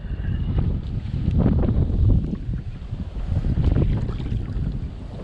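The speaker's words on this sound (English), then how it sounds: "Oh, bugger off, wind." Wind gusts buffet the microphone on a lake during a fishing session, a loud, continuous low rumble that swells and eases in waves throughout, with no talking.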